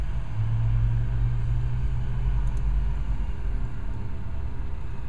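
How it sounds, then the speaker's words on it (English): A diesel vehicle rumbles along a residential street, a low steady engine drone that stays fairly loud across the whole stretch, with no voices over it. "That's a nice diesel."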